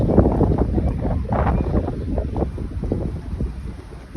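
A very large ship at sea off Japan, with steady engine and water rumble and gusting wind buffeting the microphone throughout, no voices.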